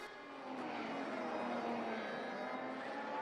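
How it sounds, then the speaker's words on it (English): Faint, steady engine hum of a race car in a sim racing game during a league endurance race, a continuous drone that holds at a low level without any clear pass-by. "There is a slight hum I can hear."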